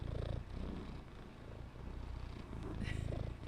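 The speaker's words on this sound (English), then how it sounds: "Listen to him purring." A cat purring right up against the microphone, a steady low rumbling purr with a gentle rhythmic pulse that runs unbroken through the whole moment.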